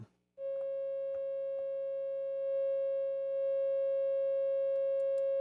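A pure sine wave tone plays through a Grammatico GSG100 guitar amp starved to 1.6 volts, a steady, unbroken hum with faint buzzy harmonics that starts abruptly and holds for several seconds.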